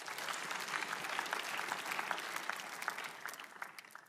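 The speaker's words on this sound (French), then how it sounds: "Applaudissez pour lui." Congregation applauding during a French-language church sermon on prayer, a steady wash of many hands clapping at moderate distance, sustained evenly throughout.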